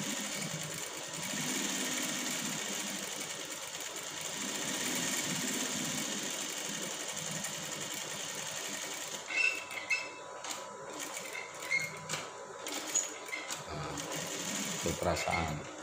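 A sewing machine stitches raised thread in quick mechanical runs that start and stop, with clicks and clatter between them. People talk over it throughout.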